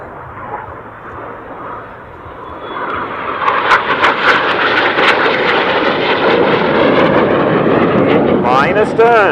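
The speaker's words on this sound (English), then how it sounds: "Red 5 kicking his aircraft out with the rudder like a pendulum as they come from our right-hand side" Display team jet aircraft roar past during a formation manoeuvre, a loud broad rushing noise that swells and holds, with a commentator talking over it.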